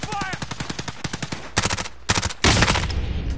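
Automatic gunfire rings out in a Call of Duty Warzone match, with rapid bursts of rattling shots from several weapons, loud and close, stopping briefly and then breaking into denser overlapping fire toward the end.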